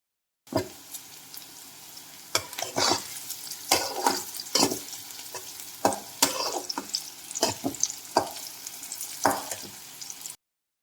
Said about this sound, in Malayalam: വട്ടത്തിലരിഞ്ഞ ഒരു സവാളയാണിത്. ഇത് നന്നായിട്ട് മുരിഞ്ഞു വരട്ടെ.